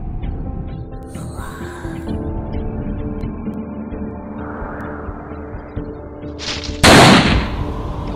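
One loud, sharp gunshot cracks out near the end in a zombie shooting game, ringing over a low, droning game soundtrack.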